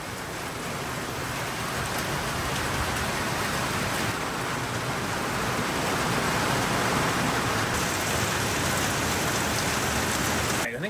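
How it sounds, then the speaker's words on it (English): Steady rain pouring outdoors, a dense, even hiss of falling drops that stays loud and constant throughout with no voices. "I think most of the rain is past us now"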